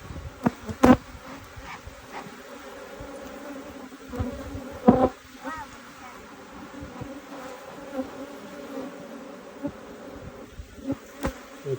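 Honey bees buzz steadily around an open beehive during an inspection, a close, continuous hum with individual bees zipping past and a few sharp knocks and clicks of handled equipment.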